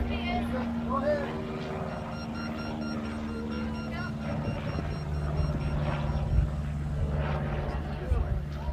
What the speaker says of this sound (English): we took a little break for a plane